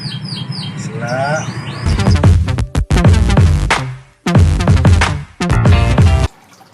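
An oriental magpie-robin (murai batu) gives a few short, bright chirps and whistles early on. Louder, choppy bursts of other sound then cut in and stop abruptly several times.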